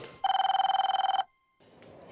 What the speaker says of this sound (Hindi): शायद मोबाइल फोन कंपनी वाले का फोन है।